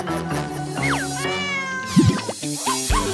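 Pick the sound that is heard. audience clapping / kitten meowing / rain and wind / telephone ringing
kitten meowing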